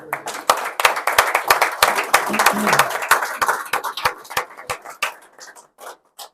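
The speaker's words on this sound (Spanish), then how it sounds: "Un aplauso al hermano Jaime." A crowd claps in a burst of applause, sharp overlapping hand claps that gradually thin out and fade to a few scattered claps.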